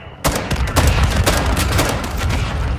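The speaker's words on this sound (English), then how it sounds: "Throwing a stun grenade." Gunfire and a stun grenade in the shooter game DMZ: a sudden loud burst opens a dense, rapid string of close shots and bangs that rattles on without a break.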